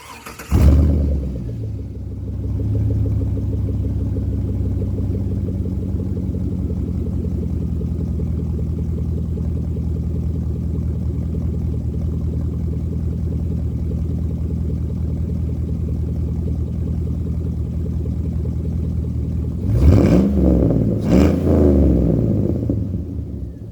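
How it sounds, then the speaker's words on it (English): A 1999 Chevrolet Silverado with the 5.3 V8 and muffler deleted starts up and settles into a deep, steady, rumbling idle recorded from under the truck, with a brief rev or throttle blip near the end. "Good idle. I like the way it sounds at idle."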